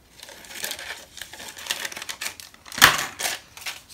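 Faux leather folio material being trimmed, heard as a series of close, crisp snipping and crinkling cuts in uneven bursts.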